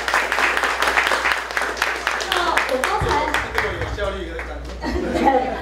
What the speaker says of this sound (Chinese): 那请大家再给他一次非常热烈的掌声